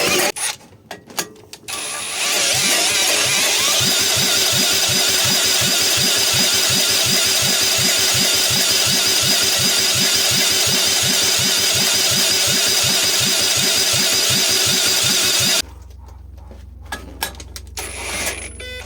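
A Honda GX200 clone engine, rebuilt with AliExpress parts and running on choke, cranks over with a rapid, loud rhythmic chugging for about thirteen seconds, never catching, then cuts to quiet handling sounds.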